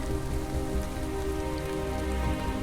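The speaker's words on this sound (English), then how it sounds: "Nature is at its most beautiful when it's raining." Steady rain falls along the Everest Base Camp trek in Nepal, a dense continuous patter on surfaces, even in loudness throughout, with no voices.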